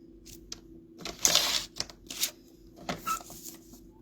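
Paper cutter trimming cardstock into a card base, a few crisp snipping and sliding sweeps at close range with no talking.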